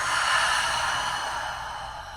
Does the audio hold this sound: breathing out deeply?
yes